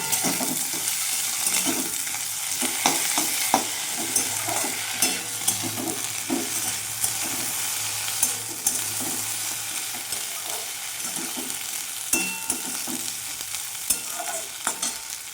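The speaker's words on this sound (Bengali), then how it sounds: "আদাটা আমি একটু ভেজে নেব" Ginger paste fries in a pan with a constant bright sizzle, broken by frequent small clicks and scrapes of a spoon stirring, steady and close throughout with no voices.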